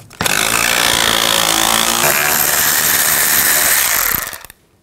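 Bolts on the side of a radiator cooling fan on a 2009-17 Chevy Traverse being spun out with a 10 mm socket on a power tool, a loud steady buzzing whir lasting about four seconds before cutting off.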